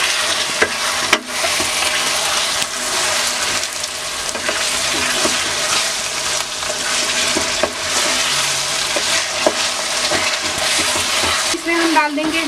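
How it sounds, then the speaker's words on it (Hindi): Garam masala and bay leaves frying in oil with ginger-garlic paste for chicken stew, giving a loud, steady sizzle with occasional spoon scrapes throughout. "और डाल देंगे हम गरम मसाला सारा पत्ते भी डाल देंगे इसे हल्का सा भून लेते हैं"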